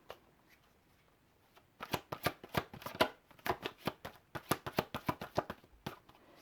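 A deck of tarot cards is shuffled by hand, close up: after a quiet start, a rapid run of crisp slapping card sounds follows in an uneven rhythm, with no voices.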